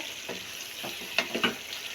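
Potato, pea and carrot curry cooking in a pan Punjabi style, with a steady soft sizzle and a few brief louder stirring or scraping sounds near the middle, no voices.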